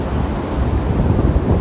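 Sea waves washing against an eroding shore lined with dying trees and palms, a loud broad rushing roar with wind buffeting the microphone and no talking.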